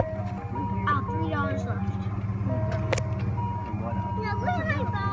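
Ice cream truck chime playing a repeating tinny melody over a steady idling engine rumble, nearby and fairly loud, with people talking throughout.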